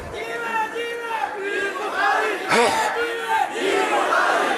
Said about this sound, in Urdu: چھوڑیے, نعرے نہ لگائیے.